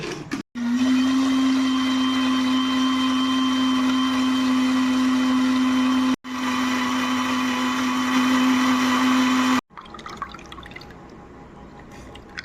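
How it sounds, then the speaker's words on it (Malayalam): A mixer grinder blends pomegranate seeds with water and sugar into juice: a loud, steady motor whine running in two long bursts with brief stops, then quieter clinking and pouring afterward. "മിക്സിയിൽ അടിക്കാൻ പോവുകയാണ്"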